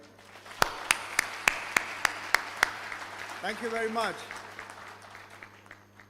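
Eight sharp, evenly spaced hand claps ring out at a university HR conference opening, followed by a man's brief spoken thanks over a faint room hum.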